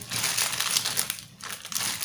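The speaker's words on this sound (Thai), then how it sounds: "เราก็ใช้ถุงพลาสติกแต่เราก็ไม่ให้ อากาศเข้าไป ก็ผูกไว้ แน่น ๆอย่างนี้" Thin plastic bag crinkled and tied tightly by hand, brisk crackling rustles in quick bursts with a short pause midway, close and fairly loud.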